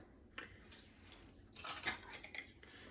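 A metal spoon and measuring cups handled for baking, quiet close clinks and taps in an irregular scatter, with a brighter cluster of clatter partway through.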